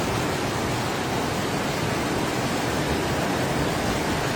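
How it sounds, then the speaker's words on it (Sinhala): Mahaweli River floodwater in Sri Lanka rushes across a town road about ten feet deep, a steady, loud, unbroken roar of water filling the whole clip with no voices. "පාරෙන් නම් අඩි 10ක විතර වතුර ප්‍රෙෂර් එකක් යනවා."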